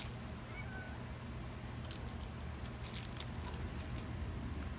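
A house cat meows softly over a constant low background hum, the brief call coming early and faint crinkly rustles following later, without any talking.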